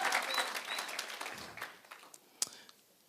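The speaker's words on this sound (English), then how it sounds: "A round of applause for Speech Khawula." Applause from a graduation audience at a City of Johannesburg skills development programme ceremony, moderately loud at first and thinning out over about three seconds into scattered claps.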